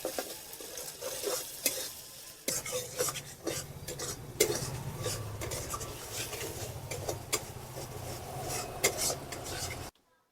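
Lote fish stir-fried in a pan, a spatula scraping and stirring steadily over a soft sizzle, with clinks of utensil on metal, close and busy until it cuts off abruptly.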